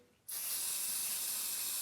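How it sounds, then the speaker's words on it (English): Hairspray bursts from a can aimed at a fabric face mask, a sudden loud continuous hiss that starts abruptly and holds steady, close up and alone. "So I'm going to be using hairspray as my tester."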